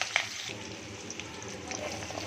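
Green chilies hit hot oil in a pan with browned urad dal, a steady close sizzle with a brief louder crackle at the start, continuing evenly throughout.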